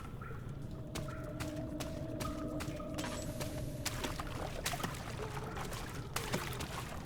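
Water drains out of an area in Amnesia, a continuous trickling, pouring flow with faint clinks and splashes, quiet and steady throughout.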